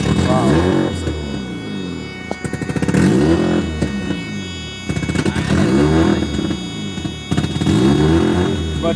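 A Mazda RX-7 on a cold start revs hard in repeated bursts, each climb dropping off with a sharp hiss from the blow-off valve, loud and close, with a voice talking between the revs.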